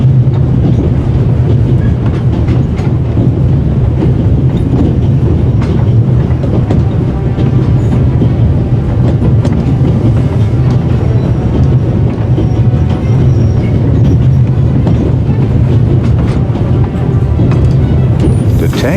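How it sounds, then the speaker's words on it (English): Runaway train racing along rails through the Alps in The Raven game, a loud continuous rumble with clickety-clack rattling throughout, no voices. "on an out-of-control train in the Alps"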